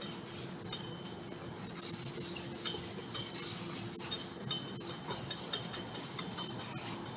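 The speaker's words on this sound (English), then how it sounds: "So continue sanding down." Steady rhythmic rasping and scraping of sandpaper against a new plastic car bumper, continuous strokes up close with no voices.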